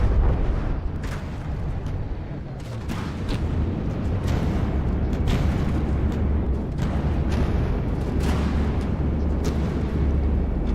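Big guns fire repeatedly in the naval combat game From the Depths, heavy booming blasts layered over a continuous deep rumble, loud and close, with several sharper bursts punctuating the steady roar.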